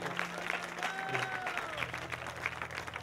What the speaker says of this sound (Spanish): Usted puede aplaudir a Dios.